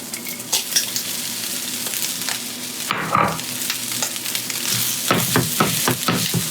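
Day-old rice for beef fried rice sizzles and fries in a hot pan, a steady crackling hiss broken by scraping stirs and knocks of a utensil against the pan, close and without talk.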